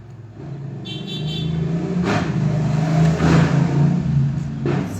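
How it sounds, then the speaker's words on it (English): Steady road traffic rumbles close by, with cars swelling and fading as they pass and engines revving. "Sorry about the noise, I'm sitting right by the road."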